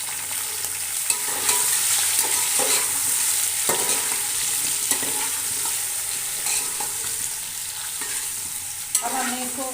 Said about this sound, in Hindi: अब हमने इसको उस वक्त तक फ्राई करना है जब तक इसका कलर वाइट ना हो जाए।